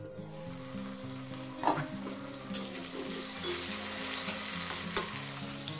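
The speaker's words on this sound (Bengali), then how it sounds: "এটা মিডিয়াম টু স্লোতে রেখে এটা একটু ভেজে নেব।" Potatoes seasoned with salt and turmeric sizzle steadily in hot oil over medium-low heat, a continuous close crackle with occasional stirring scrapes and soft tonal hum underneath.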